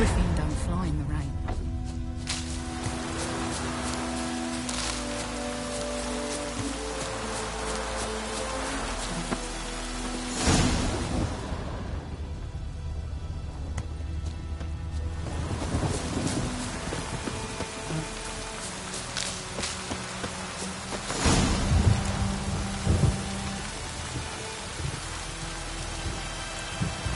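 Steady heavy rain in the video game The Witcher 3: Wild Hunt, with deep rolls of thunder breaking through twice, over a faint sustained musical drone.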